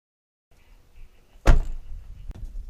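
A car door shuts with one solid, close thump, preceded by faint rustling and followed by a softer knock.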